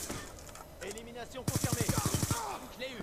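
Rapid burst of video game gunfire, about a dozen sharp evenly spaced shots in quick succession, loud and close, with game voices and effects around it.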